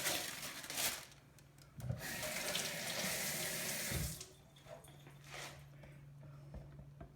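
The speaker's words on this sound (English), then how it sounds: "You gotta wet your hands." Kitchen tap water runs into a sink to wet hands while making dough, a close steady gush that swells and fades in several spurts with light rubbing sounds.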